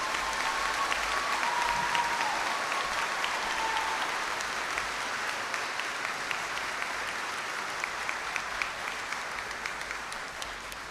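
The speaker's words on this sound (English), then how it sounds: "Can we please give them a big round of applause?" Sustained audience applause at a 2022 high school graduation for graduates joining the United States military, a broad even roar of many clapping hands that carries on at steady strength, tapering slightly toward the end.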